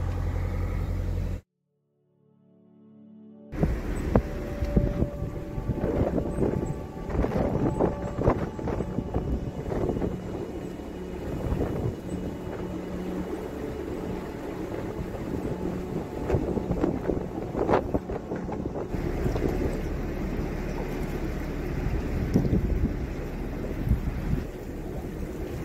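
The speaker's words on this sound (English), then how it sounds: "It started to rain as we moored up and get very windy." Wind roars and buffets around a moored canal boat in the rain, a loud, continuous gusty rush after a brief silent gap near the start, with occasional knocks and rattles.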